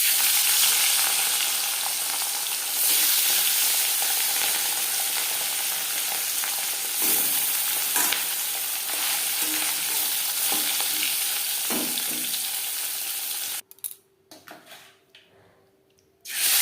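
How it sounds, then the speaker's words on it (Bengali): Katla fish pieces fry in a pan with a loud, continuous oily sizzle and occasional stirring scrapes, then the sizzle cuts off near the end, leaving a few faint clatters. "মাছ ভাজা হয়ে গেছে।"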